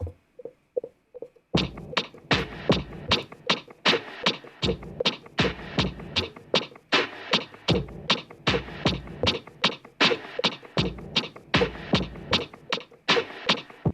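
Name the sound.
hi-hat played on MIDI keyboard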